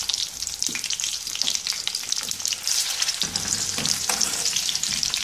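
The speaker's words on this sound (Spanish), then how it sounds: "Aquí le vamos a poner un poquito más de aceite, ya que vamos a freír todo esto." Food sizzles steadily while frying in oil, for a pineapple dish with spicy mango dressing, a loud continuous hiss with crackling pops and occasional stirring scrapes, close up, no voices.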